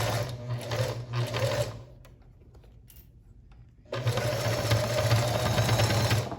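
Sewing machine stitching a seam on fabric for a bag holder, running steady and close, stopping for about two seconds, then resuming its rapid buzzing drone.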